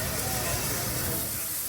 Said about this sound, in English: That's a little steam engine.